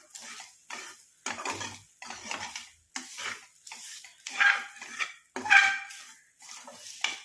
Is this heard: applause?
no